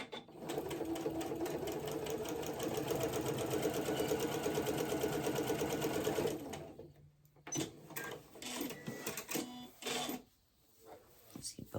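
A sewing machine sews a pair of pants with a fast, even rattle of needle strokes for about six seconds, then stops, leaving scattered handling clicks and rustles.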